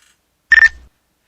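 A single short phone-dialing tone, a steady electronic beep with a brief low thump beneath, serves as a melodic element in a hip-hop beat; heard alone, close and clear, fading quickly.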